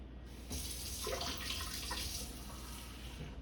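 A quiet, steady stream of warm water being poured, running and splashing for a few seconds into dumpling dough, close by, with no talking.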